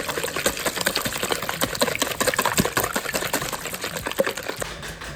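Three eggs beaten with a whisk in a large bowl make a fast, continuous clatter of wire against the bowl, with rapid rhythmic ticking and wet sloshing, close and loud, with no talk.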